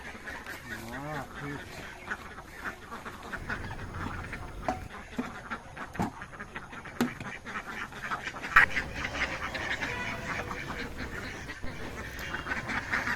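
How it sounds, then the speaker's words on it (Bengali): Native ducks at a duck farm quack in a busy, overlapping chorus throughout, with scattered louder calls standing out over a steady flock murmur and a voice speaking briefly. "এই যে দেখুন দেশি হাঁস"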